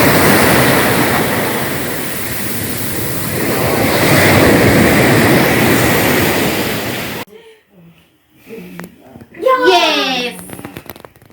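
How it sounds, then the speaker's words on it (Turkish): Sea waves at Gazipaşa wash in a loud, continuous roar of surf and wind for several seconds, then cut off abruptly as a voice speaks up close. "biraz dalga var"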